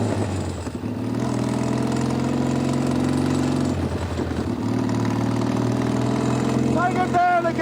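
A motorcycle engine runs steadily at close range during a riding lesson, a sustained idle-to-mid throttle drone that swells slightly near the end, with a person talking over it.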